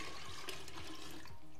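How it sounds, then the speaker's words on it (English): Water poured from a pitcher into a glass jar, a steady gurgling trickle heard close up for a second or two with no talking. "take my glass jar, and I have a pitcher of water. I'm gonna pour it into my jar."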